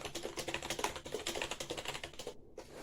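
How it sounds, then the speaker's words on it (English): Rapid typing on a cramped XINMENG 60% gaming keyboard, a steady stream of close, clicky keystrokes with uneven rhythm and a short pause near the end. "I'm going to give you some typing."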